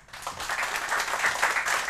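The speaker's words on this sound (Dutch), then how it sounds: "We gaan eerst even afscheid nemen van onze gasten met een enorm applaus." Studio audience on a Dutch television talk show gives guests a big round of applause, dense steady clapping that rises quickly and stays loud throughout.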